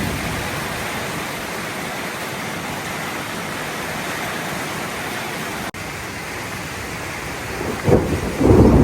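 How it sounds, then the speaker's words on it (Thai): Heavy storm rain pours on a village road in a steady, hissing rush, with a deep rumble of thunder breaking in near the end. "ฝนมาแล้วพี่น้อง"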